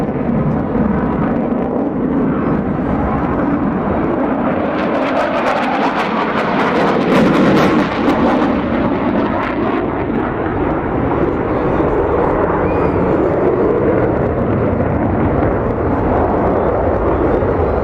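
A Tornado jet performing a role demonstration at the Farnborough airshow 2012 roars steadily and loudly throughout, its engine rumble swelling briefly as it passes closest, with a public-address announcer talking underneath.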